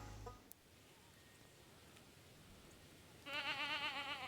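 A goat bleats in the farming video game Stardew Valley, one short wavering call near the end after a quiet stretch of faint background ambience.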